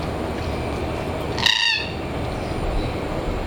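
A single bird call rings out in an aviary at a bird park, a short, harmonic squawk over a steady wash of background ambience, fairly close and moderately loud.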